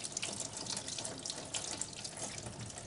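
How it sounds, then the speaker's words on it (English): Tap water runs steadily from a faucet while an acrylic paint brush is rinsed under it, a constant close hiss of flowing water with no voices. "Make sure the water is running clear."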